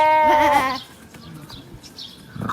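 A lamb gives one loud, close bleat at the start, then the sound drops to quiet background noise with a faint stir at the end.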